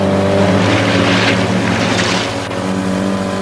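A motorboat engine revs up under more throttle, a loud, dense, continuous drone with a steady low hum and broad rushing water and wind noise, close and unbroken, with no talk over it.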